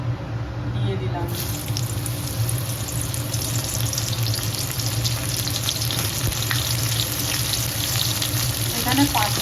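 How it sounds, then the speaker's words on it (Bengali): Pointed gourd frying in oil in a pan, in the same oil just used to fry potatoes; a loud, steady sizzle runs close up throughout, with faint stirring noises and no voices. "এই আলু ভাজা তেলের মধ্যে পটলটা দিয়ে দিলাম।"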